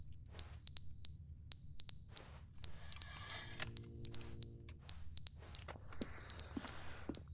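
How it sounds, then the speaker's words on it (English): In The Stanley Parable video game, a fire alarm gives rapid high-pitched electronic beeps in regular paired bursts. The alarm is faint and sits over a low background drone, with short tonal game sounds in between and no speech. "Fire alarm?"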